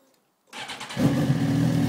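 A 2007 Suzuki GSX-R 1000 motorcycle engine starts after a brief silence: a quick starter crank, then the engine catches and settles into a loud, close, steady idle.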